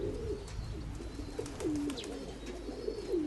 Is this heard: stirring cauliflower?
no